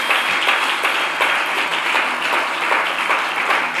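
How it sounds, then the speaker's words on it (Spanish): A church congregation applauds loudly and steadily, a dense wash of clapping hands filling the room without pause. "Vamos, denle ese fuerte aplauso al Señor."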